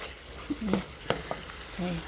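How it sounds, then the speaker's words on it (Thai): Curry paste stir-fried with salt in a pan gives a soft sizzle with a few sharp scrapes of the utensil. Faint voices murmur in the background. "เราต้องผัดให้แห้งอย่างนี้เลยนะพี่นะ"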